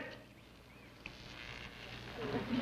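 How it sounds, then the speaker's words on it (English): Old telephone wires on a pole hum like a swarm of bees, a faint, steady insect-like buzz that swells slightly toward the end. "These old telephone wires is humming like a swarm of bees."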